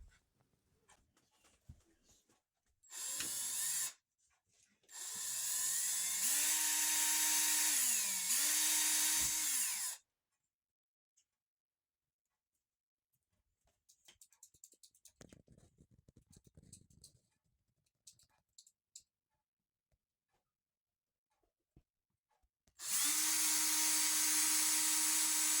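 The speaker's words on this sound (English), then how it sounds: "I'm gonna drill a hole there, and I'm gonna drill a hole here" A power drill bores holes for mounting a smoke alarm, running in several loud bursts with the motor whining up and down, separated by quieter handling noises and a long silent gap.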